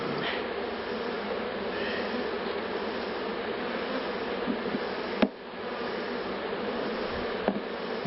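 Honey bees buzz densely and continuously at an open hive, a steady droning swarm close by, with an occasional soft knock.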